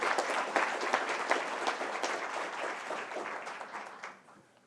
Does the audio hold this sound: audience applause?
yes